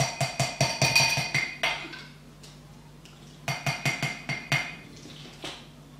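A metal spoon stirs homemade cider vinegar hair lotion in a glass container, giving rapid rhythmic clinks in two bursts separated by a short quiet pause, close and crisp.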